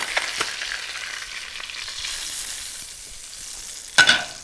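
Dover sole pan-roasts in a hot pan, a steady soft sizzle and hiss running throughout, with a sharper crackling burst near the end.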